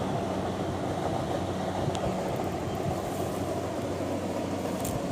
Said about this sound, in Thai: รถ เกียวคูโบตาครับดีซีเจ็ดสิบครับ ของญี่ปุ่นแท้ครับ ออกรุ่นแรกเลยครับดีซีเจ็ดสิบรุ่นแรกเลยครับ